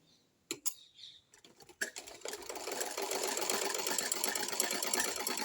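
A sewing machine runs double stitching, starting with a few short bursts and then settling into a steady, continuous close-up whir with no talking.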